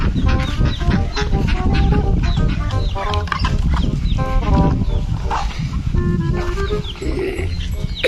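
A crowd of chickens clucking and squawking continuously, close and loud, with busy overlapping calls and a few higher cries mixed in.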